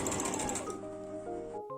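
A sewing machine stitching fabric pieces for a Kurung Pesak Gantung garment, a quick run of rapid mechanical whirring that winds down and stops within a second or two, close by.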